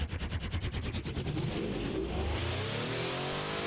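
An 8,000-horsepower engine built in Automation and driven in BeamNG.drive revs loudly: a rapid pulsing chop at first, then a smooth, rising roar.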